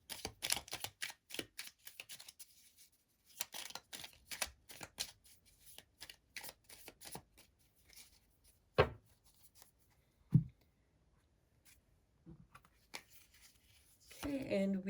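Tarot cards are shuffled by hand in repeated quick riffling and slapping bursts, close and crisp, with a few sharper taps and a louder card flurry at the end, alone without talk.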